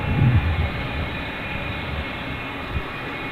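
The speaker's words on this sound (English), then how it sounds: "Sounds like somebody from FedEx is starting their engines." A FedEx jet at Ted Stevens International Airport starts its engines, a low rumbling roar with a deep growl early on, then a steady broadband hum and a brief thump near the end, with no talking.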